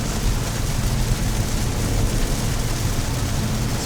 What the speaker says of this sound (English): I like rain sounds.